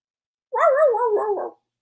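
A single drawn-out bark-like yelp from a dog, about one second long with a wavering, whining tone, close and clear against silence.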